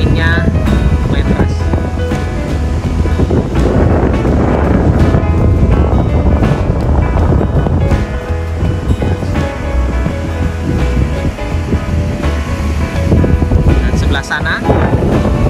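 Strong wind buffets the microphone over the steady roar of ocean surf breaking on Slili Beach, a white-sand shore near Yogyakarta, Indonesia; the sound is loud and continuous throughout.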